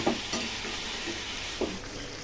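Meat frying with plenty of whole garlic cloves in a pan, a steady close sizzle with a few soft scraping stirs, fairly quiet and without voices.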